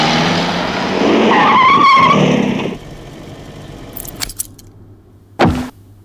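A car skids loudly to a halt, tires screeching with a rising squeal for about three seconds, followed by quieter clinks and a sharp thud like a door or impact near the end.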